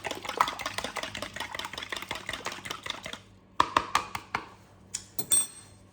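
A food processor pulses a scone mixture with buttermilk and eggs, giving a few seconds of steady whirring, then a gap followed by a series of short, quiet pulses.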